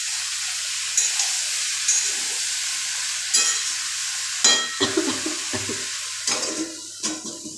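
Bottle gourd with turmeric and salt sizzles softly in a pan while a utensil scrapes and stirs it in a few distinct, close bursts, with no voices.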